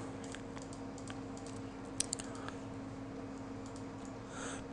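Quick keystrokes on a computer keyboard, with a backspace press among them, come as light clicks scattered over a steady hum and cluster into a short burst near the middle.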